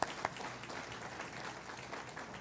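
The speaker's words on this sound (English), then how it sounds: "Yes, that deserves applause." Audience applause at a groundbreaking ceremony for the Stephen Klein Wellness Center, a crowd clapping steadily at moderate distance, opening with a couple of sharper close claps.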